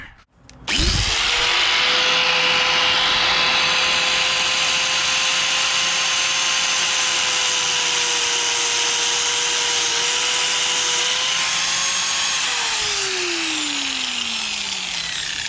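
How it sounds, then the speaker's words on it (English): An abrasive cutting disc on an angle grinder slices through braided hose line for a turbo install on a Nissan 180SX, a loud steady high whine held for about twelve seconds before winding down, with no talk. "Good way to use our brand new cutting discs, so we can just press all this excessive braided crap off"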